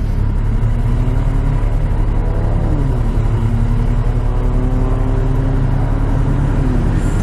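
Motorcycle ridden along a road in Utah, a steady loud engine rumble with wind roar throughout, pitch sliding slightly as the rider shifts and accelerates, no talk.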